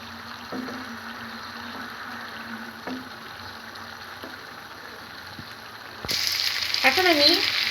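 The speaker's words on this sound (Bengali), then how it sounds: "এবার আমি টমেটোর সস দিয়ে দিলাম।" Tomato sauce hits a pan of frying food, and a steady background sizzle swells into a louder, brighter hiss near the end, with a few soft stirring scrapes earlier.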